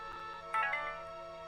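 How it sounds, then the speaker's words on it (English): Phone notification chimes pile up briefly over a steady electronic background hum, a short cluster of bright tones sounding at once near the middle and then fading. "Oh, that's like a billion notifications at once,"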